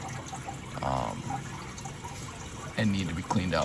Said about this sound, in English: hear that the sound of the water is better than what it was on just the hot alone